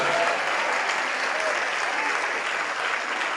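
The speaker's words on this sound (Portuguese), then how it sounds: "vamos aplaudir mais ao nome de Jesus" A church congregation claps steadily and densely at a worship meeting, filling the space as broad, sustained applause.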